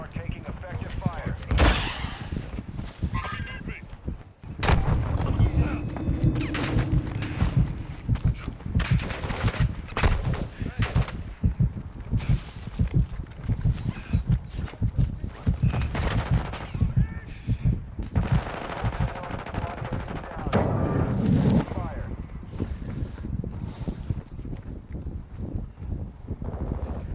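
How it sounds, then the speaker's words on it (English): An M13 rifle firing in bursts during a Call of Duty DMZ firefight, close rapid volleys repeating throughout alongside other gunfire, with voices talking over the shooting. "Why was my gun firing in bursts?"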